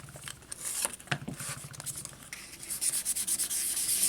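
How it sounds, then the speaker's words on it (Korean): Fine 600-grit paper sanding a small wooden piece for a miniature dollhouse bed, a steady scratchy rubbing with quick back-and-forth strokes, close and fairly quiet with no voices. "이쪽 면에도 사포로 샌딩 작업을 해주셔야 됩니다."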